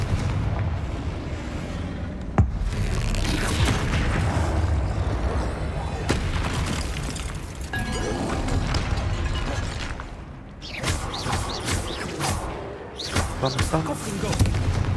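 Hogwarts Legacy video game combat with the Confringo explosion spell, bursting in loud booming blasts and crackles layered over dense game sound, with a sharp hit near the start and more explosive bursts toward the end.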